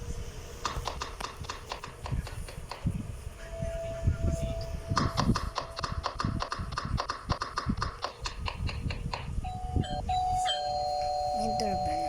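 A doorbell rings inside a house in the Roblox game Brookhaven, with repeated chiming tones over footsteps-like clip-clop thuds and background game sounds.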